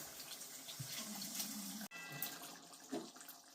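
Water is poured into a pan of potato and pointed gourd curry, giving a soft splashing flow that shifts partway through; quiet and close, with no voices.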